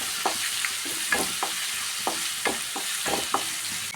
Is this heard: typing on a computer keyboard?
no